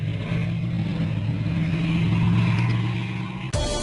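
A K2 tank runs at speed over rough, hilly ground, its engine holding a steady loud drone with a sudden cut near the end; no voices.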